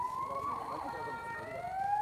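A police siren wails in a steady, sustained tone for about two seconds, fairly loud and close, over a constant background rumble.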